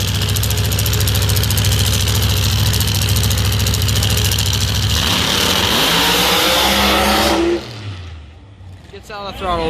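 Pro Mod drag racing car engines roaring at full throttle, loud and sustained for several seconds before abruptly cutting off and dropping to a lower, fading rumble.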